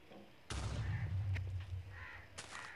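A sudden loud video game explosion booms in, then a rumbling decay, followed by a second sharp blast near the end.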